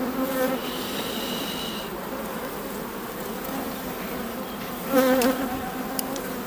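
Dense, steady buzzing of many honeybees swarming close around an open hive during inspection, with a few individual bees droning louder as they pass near.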